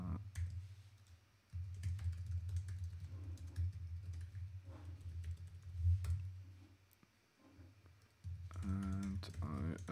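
Typing on a computer keyboard while logging in: a run of close, irregular key clicks and taps across the whole stretch, with brief pauses and some faint background voice.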